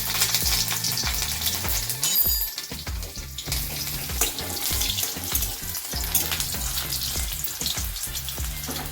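Black cumin and green chillies fry in hot oil, a loud continuous sizzle and crackle with scraping stirs and clatter from a utensil against the pan.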